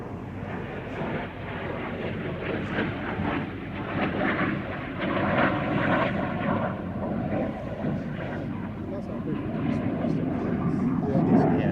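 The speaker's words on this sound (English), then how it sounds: "this example, a CL-13B Sabre Mark 6 built by Canadair, has all of those refinements and more" A Canadair-built CL-13B Sabre Mark 6 jet fighter gives a steady, rumbling jet roar that runs continuously at moderate distance beneath spoken narration.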